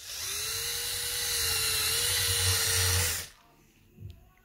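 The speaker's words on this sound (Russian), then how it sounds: "Шуруповерт вроде ожил." A cordless screwdriver whirs steadily at close range for about three seconds, then cuts off, leaving a brief faint knock; used during a repair of an Opel Antara / Chevrolet Captiva tailgate handle trim.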